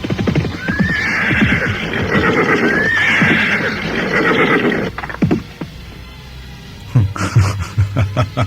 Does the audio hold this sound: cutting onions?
no